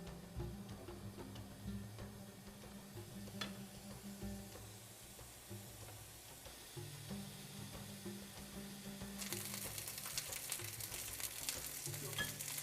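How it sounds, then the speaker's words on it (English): Middle eastern basterma sausage frying in its own released oil in a pan, a steady soft sizzle with light crackles and faint ticks throughout, swelling into a brighter, louder hiss near the end. "Cook it on each side for about 2 to 3 minutes until golden brown."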